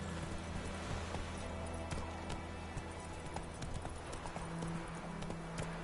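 A horse gallops in The Witcher 3, its hooves drumming a fast, rhythmic clip-clop that carries steadily and close throughout without pause.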